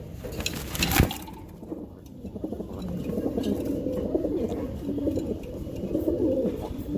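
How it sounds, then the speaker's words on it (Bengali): Racing pigeons in a loft murmur in steady overlapping coos after a sharp knock at the start, the low burbling calls continuing close and moderately loud. "তো এখানে একটা লফটের কবুতর আছে"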